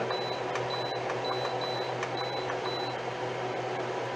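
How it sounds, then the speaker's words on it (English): Kitchen timer beeping while homemade potato soup cooks, a series of short, high, evenly spaced electronic beeps, fairly faint over a low steady background hum. "Okay, that's my little timer."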